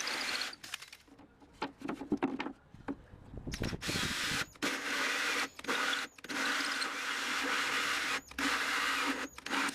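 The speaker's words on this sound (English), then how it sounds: "grab your drill and your hole saw" A power drill with a hole saw bores into timber to cut out a plug, its close, loud grinding whir running in long bursts and stopping briefly between them, with some rubbing and scraping in the quieter gaps.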